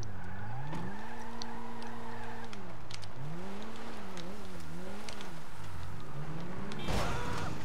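Stolen car in the GTA V video game pulling away, engine whining and revving through shifting pitch with tire skids, ending in a sharp crash-like burst near the end.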